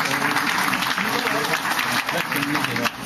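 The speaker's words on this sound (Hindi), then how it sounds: "तो झूम के तालियां मिले" A stage audience claps together, a dense, fairly close wash of hands that holds steadily for about three seconds before easing slightly at the end.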